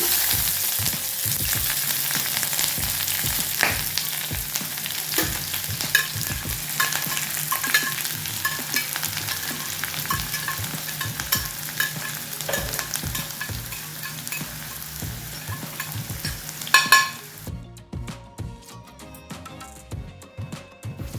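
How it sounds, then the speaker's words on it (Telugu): Onions fry in a pan of oil for chintachiguru pappu, a dense continuous sizzle broken by scraping stirs. A clunk is followed by a sudden drop to a quieter tail. "మనము ఇప్పుడు ఉల్లిపాయలు దీంట్లో వేస్తున్నాం చూడండి"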